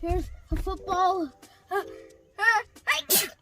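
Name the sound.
sneeze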